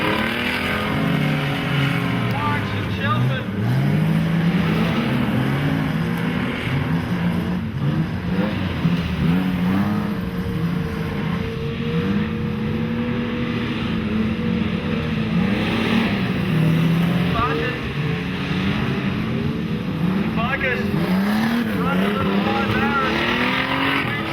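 Speedcars race at Maryborough Speedway in a Queensland Speedcar Title night meeting, a loud continuous multi-engine roar rising and falling as cars lap and pass, with a commentator talking over it throughout.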